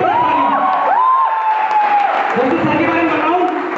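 An audience at an AWPL business meeting applauds and cheers for mentor Mr. Sandeep Yadav. The crowd's clapping holds steady throughout, mixed with whoops and overlapping voices.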